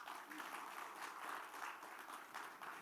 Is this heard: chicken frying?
no